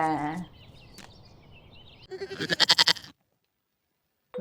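Goats on a farm bleat in a quick burst of wavering calls after a short cry, then silence before another sound begins, close and clear without talk.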